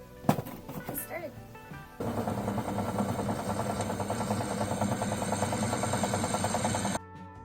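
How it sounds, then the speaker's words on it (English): After a few clicks and a brief voice, a power drill drilling holes to mount a fire extinguisher bracket on a race car runs continuously for about five seconds with a steady buzzing whine, then stops abruptly. "I'm going to switch out the drill bit and we'll go ahead and get started"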